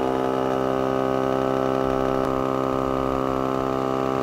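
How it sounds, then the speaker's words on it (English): A Tru-Flate wall-mounted air compressor runs steadily while inflating a soccer ball through a needle, giving a continuous loud motor drone with an even hum throughout, no voices. "And I'll turn the compressor on."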